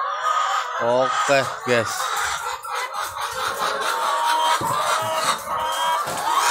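Free-range chickens roam a farm in South Manokwari, West Papua, with a few close, throaty clucks and calls over an outdoor background while someone speaks briefly.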